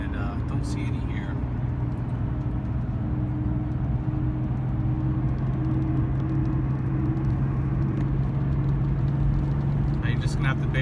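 A Porsche 911 993 with a manual gearbox cruises along with a steady low cabin rumble and engine drone, while a person talks over the noise.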